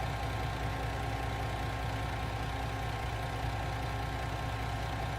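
Farm vehicle engine idling in Farming Simulator 19, a steady low rumbling drone with constant loudness, alone and unbroken.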